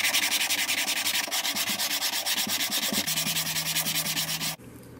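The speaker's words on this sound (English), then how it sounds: "I'm going to give them a little sanding on the side that I saw it on." Steady rhythmic sanding against the sawn side of Spectraply plywood turning blanks, a loud close rasping in fast regular strokes that stops abruptly near the end.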